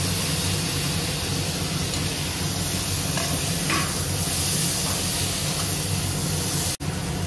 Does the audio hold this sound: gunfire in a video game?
no